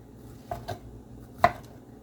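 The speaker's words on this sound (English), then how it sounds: "And I just rough chopping it." Three quiet knife strikes on a cutting board while rough chopping tomatoes, two close together then one sharper chop, with a low background hum.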